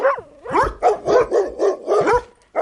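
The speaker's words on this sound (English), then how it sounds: "Those are dogs barking" Several dogs bark in a quick, uneven run of loud, close woofs and yips, about seven barks with short gaps and no voices over them.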